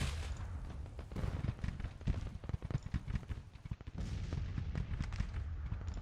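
Artillery guns fire in the Civil War strategy video game Grand Tactician, with a dense run of booming shots and cracks layered over a rumbling low battle din.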